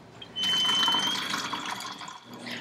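Water runs steadily from a tap into a reusable bottle, a close, even rush that starts abruptly, holds for about two seconds, then tapers off.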